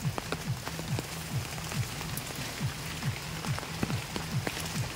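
Heavy rain pouring down steadily during an all-night downpour in a flooded rural area, a dense continuous hiss of drops striking surfaces, with a rhythmic dripping pattern underneath.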